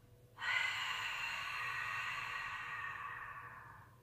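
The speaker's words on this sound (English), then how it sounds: "That is your ujjayi breath" A long, steady ujjayi exhale through the mouth during a beginner yoga flow, a single soft airy breath starting abruptly and slowly fading over several seconds, close and alone without talking.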